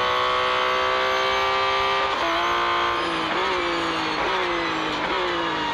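A 2021 Porsche 911 in Real Racing 3 screams loud and close, revving high with repeated gear shifts dropping the pitch in steps, faint tire squeal mixed in.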